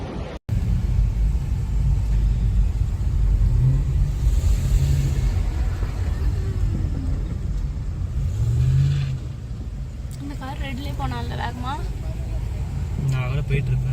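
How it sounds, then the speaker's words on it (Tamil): Heavy night-time road traffic in a US city during Independence Day celebrations: a steady, close rumble of passing cars and engines throughout, with voices talking over it. "செம்ம டிராஃபிக்காக இருக்குது"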